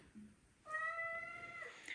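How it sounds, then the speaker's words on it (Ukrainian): A house cat meowing for pancakes, one drawn-out loud tonal meow rising and falling, close by, after a brief faint sound in a quiet kitchen. "Чого кішка кричить, бо вона полюбляє млинці."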